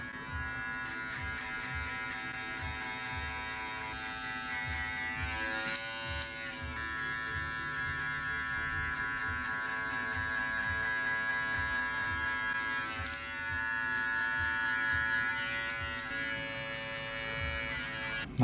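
Electric hair clippers hum steadily and close up during a skin fade touch-up in a barber studio, a continuous buzz with slight shifts as the blades move over the head, running alone without talk.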